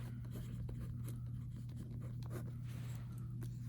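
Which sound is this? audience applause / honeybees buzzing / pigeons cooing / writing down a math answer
writing down a math answer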